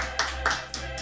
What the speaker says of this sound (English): Applause for Katrin.